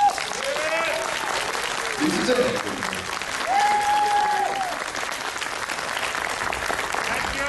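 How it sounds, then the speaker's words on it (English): A convention crowd applauds loudly and steadily at the close of a celebrity Q&A panel at a horror fan event in Atlanta. The clapping is dense and continuous, with a voice speaking briefly over it. "Big round of applause for him."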